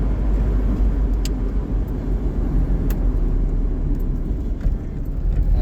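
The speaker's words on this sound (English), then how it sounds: "She's pulling nicely in fourth at 30 mile an hour" An old Austin Princess car with stale petrol pulls along in fourth gear at about 30 mph, a steady low engine rumble and road drone from inside, with a few faint knocks and clicks.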